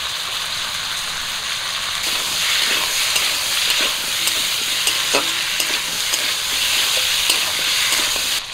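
Potatoes fry in a pan with ginger-garlic paste and cumin paste, giving a continuous bright sizzle with occasional stirring clicks, close and steady, with no talking.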